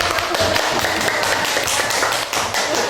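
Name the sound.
classroom applause for a student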